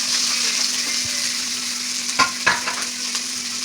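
Onions frying in hot oil with cumin and dried red chillies, a steady close sizzle with a faint background hum and a few soft stirring knocks, no voices.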